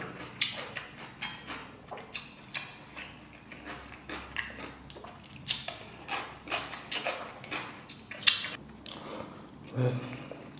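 Braised pork belly being chewed close to the microphone during a mukbang, a run of wet, sticky bites and smacking chews in an uneven rhythm, loud and intimate with no talk over it.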